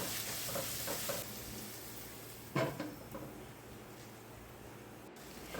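Onion, crushed ginger-garlic, tomato and green chillies sauté in a pan with a soft, steady sizzle, broken by a sharp clatter of stirring partway through, quiet and close with no voices.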